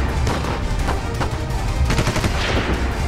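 A gunfire sound effect portrays terrorists firing indiscriminately inside Mumbai's Taj hotel. It is dense, loud and continuous, with rapid overlapping shots throughout and no speech.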